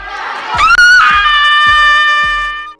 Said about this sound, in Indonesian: Karena dia kesal, dia pun ikut menjerit.